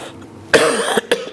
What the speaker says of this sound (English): we all have cough, you know